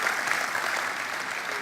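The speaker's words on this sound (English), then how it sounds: "A big round of applause, Sam." Keynote audience applauding a newly introduced chief design officer, a steady, dense wash of clapping that holds at an even level throughout without a break.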